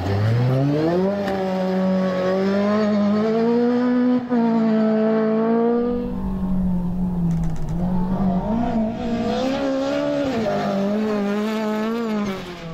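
An off-road rally car, a Honda-powered buggy, roars past at close range with a rising and falling engine whine, then a rough, gravelly rumble of tyres on dirt as it passes.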